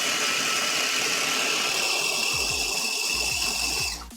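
A blender grinds breadcrumbs in a kitchen, a steady dense whirring roar that runs loud and unbroken before cutting off abruptly near the end, with no talk over it.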